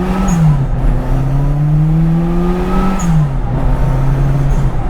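A 1979 Mini Special turbo with fuel injection accelerates hard, its engine note climbing loudly and steadily through the revs, then dropping at a gear change before rising again, heard up close from inside.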